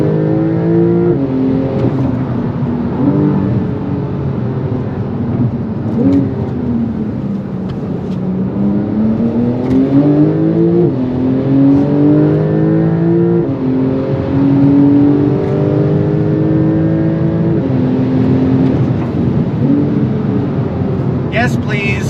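A 2025 Porsche 911 Turbo S engine pulls hard under throttle. Its loud, continuous droning note climbs in pitch through repeated gear-like rises over about twenty seconds, heard from close range.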